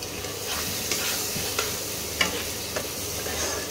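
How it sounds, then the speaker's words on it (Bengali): A spice paste frying in a pan after a splash of water is added: a dense, continuous sizzle broken by a few sharp stirring scrapes. "একটু জল দিচ্ছি, জল দিয়ে মশলাটা কষাবো।"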